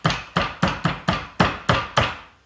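Lemongrass being bruised with the end of a knife gives eight sharp, evenly spaced thuds in quick succession, close and loud, with no talk.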